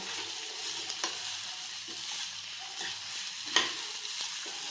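A meal maker and egg curry fries on a low flame, giving a soft, steady sizzle with occasional light stirring clicks, close and quiet.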